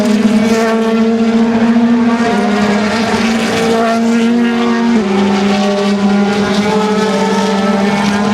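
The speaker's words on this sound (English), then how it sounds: "The cars at the DTM produce quite a lot of noise, as you can hear right behind me." Mercedes-Benz DTM race cars at a racetrack produce a loud, sustained engine whine with a steady pitch that drops slightly partway through, as if a car is passing, heard close and without a break.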